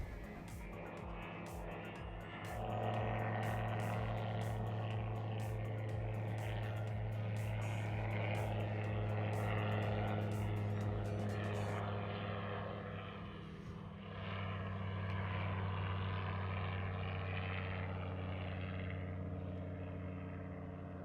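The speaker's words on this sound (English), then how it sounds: "we weren't actually sure what the plane was doing there" A propeller plane drones steadily overhead at Letaba Rest Camp in Kruger National Park, its engine hum swelling and holding for long stretches, then easing off and returning, with no voices.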